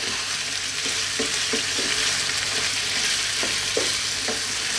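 Tomatoes frying in a pan for lamb dopiaza, a strong continuous sizzle with a series of soft spoon scrapes and knocks as they are stirred, close and without voices.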